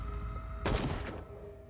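A single burst of gunfire in the video game Call of Cthulhu, a sharp, loud blast with a short, rumbling tail over a steady background hum.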